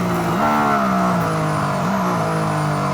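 A Mercedes AMG ONE revving hard on a race track, its engine climbing toward 11,000 rpm in a loud, close, sustained whine with a quick dip and rise as it shifts, then a second shift later.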